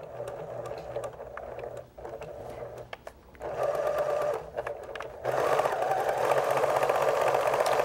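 A sewing machine runs a pin stitch at length 2 and width 2 with a 100 or 110 universal needle, a close, steady mechanical whirr in several bursts with brief pauses, the last stretch faster and louder.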